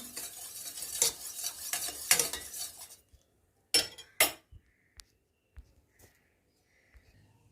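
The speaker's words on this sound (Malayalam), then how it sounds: "പഞ്ചസാര ഇട്ട് നന്നായിട്ട് നമുക്ക് ഇളക്കാം" Sugar being stirred into hibiscus-leaf water with a spoon, a steady scraping swirl for about three seconds, then a few sharp separate clinks and taps against the vessel with quiet gaps between them.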